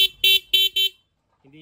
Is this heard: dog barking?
no